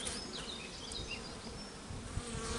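Honey bees from a swarm crawl and hum inside a small cup, giving a continuous close buzzing drone with shifting whine-like tones and a few brief louder bursts near the end.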